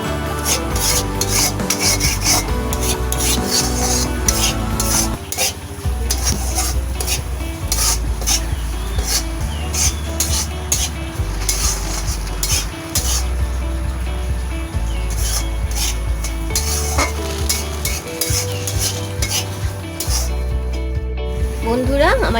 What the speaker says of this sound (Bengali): সুজিটাকে ঘিয়ে ভেজে নিচ্ছি আমি